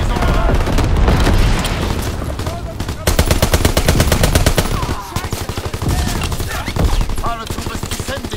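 In the World War II shooter game Call of Duty WWII, loud rapid gunfire rattles in dense bursts among booming blasts from an incendiary bombing run, with a voice heard in the mix.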